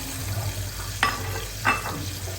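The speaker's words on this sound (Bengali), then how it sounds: "মশলাটা একদম ভালোভাবে কষানো হয়ে গেছে, আমি এখন টমেটো দিয়ে দিব।" Well-fried masala sizzling in a pan as small-cut tomatoes go in, a steady hiss broken by two brief stirring scrapes.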